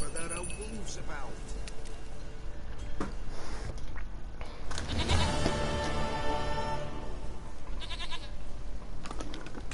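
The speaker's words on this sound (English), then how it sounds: "Goat of mine, dearest, sweetest goat." Goat bleating in The Witcher 3: Wild Hunt, several wavering bleats rising over a busy game soundscape of ambience and effects, with a voice speaking at points.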